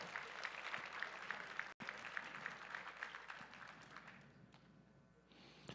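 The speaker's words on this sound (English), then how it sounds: "Give him another round of applause." Spectators at a USA Powerlifting meet clap for a lifter, a steady dense round of applause with a few sharp claps standing out, thinning and tapering off near the end.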